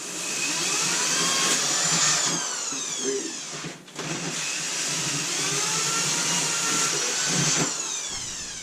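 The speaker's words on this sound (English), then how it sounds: "We're just going to bore the whole way through it." A drill bores holes straight through material for a homebrew tap install, a loud steady whining drone that rises and falls with the load, briefly dipping midway before running on.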